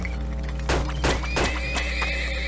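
Horses neighing in the video game Turmoil, a few short, close whinnies and snorts in quick succession over a steady low hum of game ambience, with no talking.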